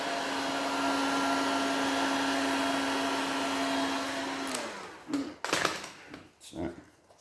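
A heat gun blows a steady, fairly loud whir with a constant hum while softening vinyl on a Honda ST1100 motorcycle seat. After about four and a half seconds it cuts out, leaving a few handling thumps and rustles.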